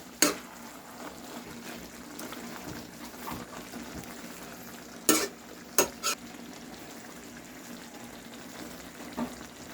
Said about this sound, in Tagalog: halo-haloin natin guys yung ating laing